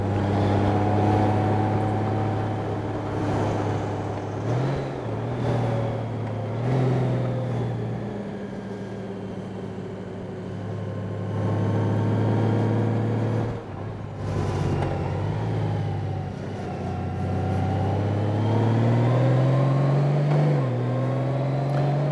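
A 2018 Honda Goldwing motorcycle rides a winding mountain road, its engine droning steadily up close with rising and falling revs through the curves, and wind rumble throughout.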